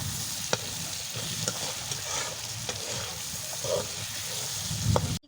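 Spices for beef bhuna frying in oil, a steady, close sizzle broken by scraping stirs and a few sharp clicks of the utensil against the pot.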